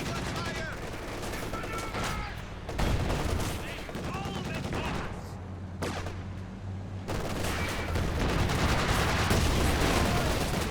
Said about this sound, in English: some long-range machine gun suppression to come in there